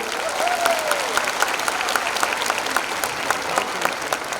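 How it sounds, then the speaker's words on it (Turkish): Steady, dense applause from a large crowd at a Balkan festival in Osmangazi, sustained throughout with a faint whistle rising above it. "onları bir alkışlamanızı istiyorum"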